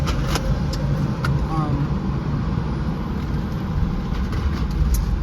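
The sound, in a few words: train passing by in city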